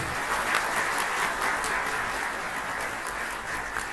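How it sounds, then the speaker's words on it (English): Audience applauding at a women's event launch, a steady dense patter of many hands clapping continuously, moderately distant and even in level throughout. "Let's give Ms. Shreya Shah a big round of applause."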